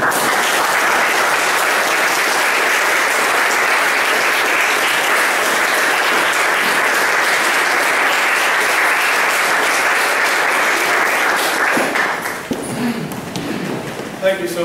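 Audience applauding steadily to welcome a professor at a university speaker series lecture, a loud dense clapping that holds for about twelve seconds, then fades as a voice begins to speak.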